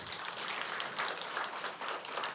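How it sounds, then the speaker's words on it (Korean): Church congregation applauding during a Sunday service, a brief spell of steady clapping at moderate distance, fairly soft and continuous without voices. "우리 박수 한번 할까요?"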